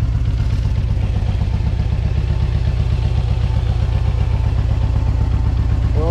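A Harley-Davidson motorcycle engine idles steadily up close, its low, lumpy throb running unbroken throughout with a faint mechanical clatter on top.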